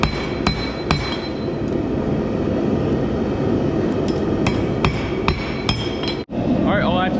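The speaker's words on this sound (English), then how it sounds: "now I'm going to start beveling the blade, which is taking and making the edge of the blade" Hammer blows on a hunter knife blade being forged and beveled, sharp metallic strikes ringing at an uneven pace over a steady roar of the forge, close and loud.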